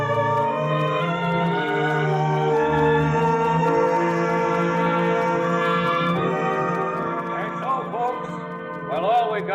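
A church bell rings in a Western radio drama set in frontier Tombstone. Sustained, layered ringing tones carry steadily and fairly loud throughout, with a brief shift in texture near the end.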